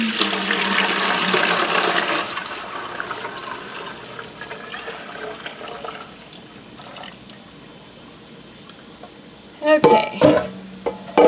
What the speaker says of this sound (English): I'm going to pour the milk into this pot real quick.